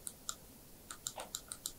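An Apple Magic Mouse is clicked about eight times in quick, uneven succession, producing light, sharp clicks heard close and quiet against near silence.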